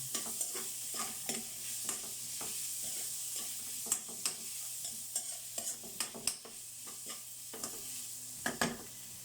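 Kikiam frying in a pan for pansit kanto, a steady loud sizzle with a spatula stirring and scraping against the metal at irregular moments, close and without voices.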